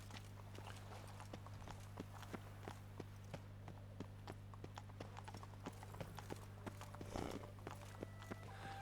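Horse hooves clip-clop at a steady walking rhythm in The Witcher 3: Wild Hunt, Blood and Wine, a long run of sharp evenly spaced knocks over a constant low hum, with a brief louder rustle near the end.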